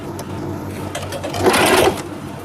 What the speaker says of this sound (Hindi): तो पहले इसको टर्न करके एक सिलाई लगा लेंगे।